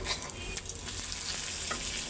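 An egg fries in a hot pan, a loud, close, continuous sizzle and crackle that carries on without a pause, with faint stirring scrapes and no voices.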